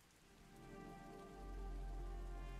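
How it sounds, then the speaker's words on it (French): Steady rain falls in the video game Ashwalkers, a dense, continuous patter that swells slightly louder midway and then holds even, with no voices over it. "il pleut"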